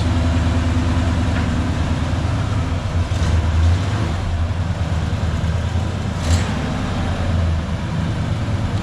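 A Chevrolet square body truck engine idles in a continuous low rumble close by, steady and unbroken, with faint clatter over the top and no voices.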